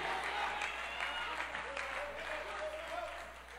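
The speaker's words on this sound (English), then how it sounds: "I see my young man clapping." An audience in a church claps during a preacher's sermon. The applause is steady and moderately faint, and a voice speaks over it throughout.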